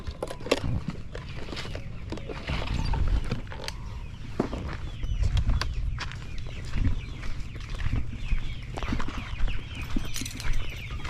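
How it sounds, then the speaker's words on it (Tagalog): Farm chickens cluck and call in scattered bursts close by, over steady low background noise, with no voices present. "Pakain pa tayong manok."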